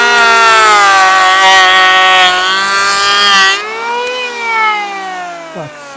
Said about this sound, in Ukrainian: Поки оце так ми його шліфували.